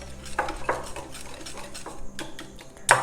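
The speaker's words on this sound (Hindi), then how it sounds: "और अब मैं इसको मिक्स कर लूँगी।" Garlic ginger paste being stirred with orange and red food colouring in a bowl, heard as a spoon scraping and clinking against the dish in uneven strokes, close up, ending with a sharper clatter.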